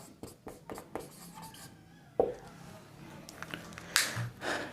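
Someone writes on a board during a lesson, producing a series of short scratchy strokes and taps, then a sharper stroke and a longer rough stretch of writing, close and fairly quiet.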